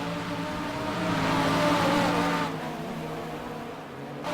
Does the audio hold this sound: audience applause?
no